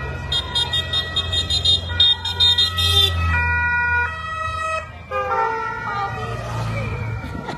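An ambulance siren wails continuously, loud and near, under a low vehicle engine rumble as the Giro d'Italia caravan passes through San Severo, with its pitch shifting as it goes by and no voices.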